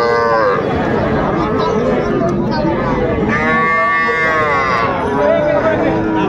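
Young bull and heifer calves moo loudly over a busy cattle-market crowd, with drawn-out bellows rising above steady chatter and bustle throughout.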